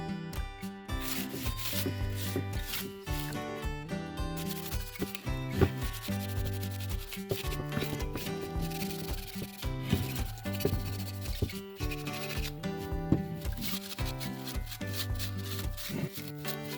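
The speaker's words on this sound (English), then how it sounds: "Lots of scrubbing to get it clean." Hands scrub a wooden bunny decoration clean with rapid, rhythmic rubbing strokes that repeat steadily, close and fairly loud, with brief pauses between bursts.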